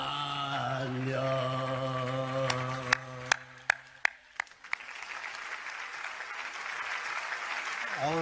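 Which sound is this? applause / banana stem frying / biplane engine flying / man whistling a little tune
applause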